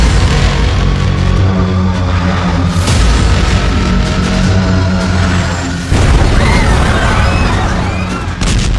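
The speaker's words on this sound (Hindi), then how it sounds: "महा धमाका, धमाके से खंडहर बना इलाका।" A bomb blast in Pakistan sends out loud, continuous rumbling booms and crashing noise, with a sharper burst partway through, all dense and close.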